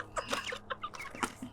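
Backyard chickens cluck busily and close by, several short overlapping clucks and squawks in quick succession.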